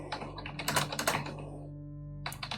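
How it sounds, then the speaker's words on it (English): Computer keyboard typing during an online tabletop role-playing game session: a quick run of close, clattering keystrokes, a short pause, then a few more taps. No one speaks. "Sorry for the typing."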